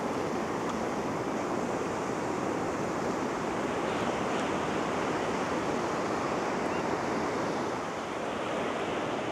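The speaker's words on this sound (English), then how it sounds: "Oh, here comes the sea." Sea waves break continuously on a British beach where a few surfers wait on their boards, a steady loud roar of surf and wash with some wind, no voices.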